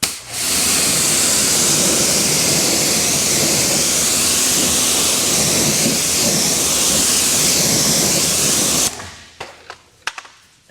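A strong, steady hiss of water spraying onto a car tire fills most of the clip, then cuts off abruptly and leaves a few faint drips and knocks.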